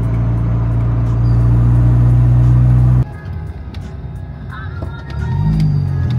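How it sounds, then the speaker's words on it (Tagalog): A '92 Honda Civic EG exhaust drones loud and low for a few seconds, then cuts off abruptly. Quieter background noise and a faint rumble follow. "ang kinakainisan ko lang dito is ang ingay ng exhaust"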